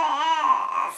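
A baby girl babbles and whimpers into a brief cry, close and fairly clear in a quiet indoor room.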